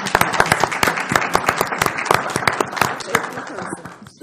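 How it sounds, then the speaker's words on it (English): Applause at a school board meeting, a modest group clapping in a room, crisp and fairly close, starting at once and thinning as it fades toward the end. "Let's give her a round of applause."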